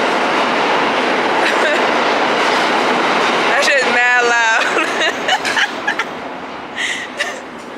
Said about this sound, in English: It's the MTA train making all that damn noise.